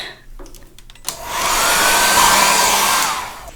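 A hair dryer roars up after a short clunk and some handling, blowing steadily and close over a watercolor painting of a starfish for about two seconds before it winds down.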